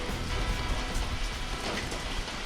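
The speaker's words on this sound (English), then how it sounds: "Not a bad little rainy day." Steady rain falls on a rainy day, a dense, even hiss of drops spattering on surfaces that fills the short stretch without a break and with no voices.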